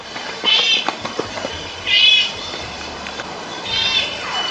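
An ocelot gives three high, meow-like calls spaced a little over a second apart over quiet background rustle.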